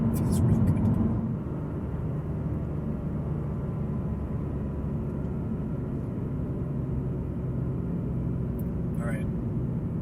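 A methanol-injected BMW M3 engine held at full throttle near 2,500 RPM gives a loud, steady, low roar that lasts the whole time and swells briefly at the very start.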